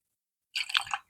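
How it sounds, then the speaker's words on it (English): Water poured out in a short, splashing burst that starts abruptly after silence, lasts about half a second with bubbly, liquid spatter, then cuts off. "as I pour this water out"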